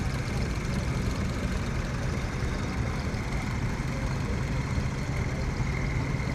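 A Massey Ferguson 35X tractor fitted with a front loader runs at a steam and country show in Ringmer in 2016. Its engine gives a steady, loud, low chugging drone close by throughout.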